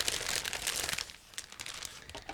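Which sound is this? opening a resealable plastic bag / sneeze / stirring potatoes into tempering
opening a resealable plastic bag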